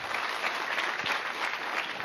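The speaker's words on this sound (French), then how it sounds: "On pourrait les encourager, s'il vous plaît, par de nombreux applaudissements." An audience at a high school eloquence competition applauds the students with a continuous, dense, fairly loud burst of clapping from a crowd.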